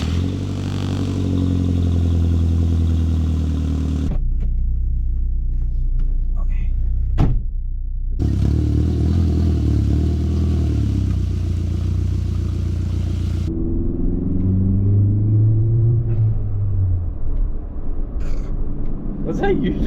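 A Volkswagen GTI on a test drive, its engine droning steadily up close inside the cabin with cuts and gear changes, a brief clatter, and a rising engine note near the end as the diverter valve opens; people talk over it.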